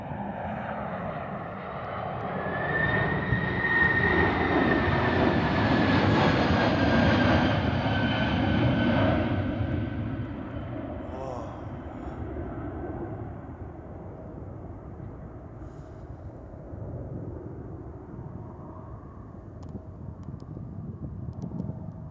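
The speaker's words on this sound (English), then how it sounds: "This Boeing 767 had to go around due to an Airbus A330neo still taking off on the same" The jet engines of a Boeing 767 aborting a landing and going around spool up into a loud roar with a rising whine, then fade into a distant rumble.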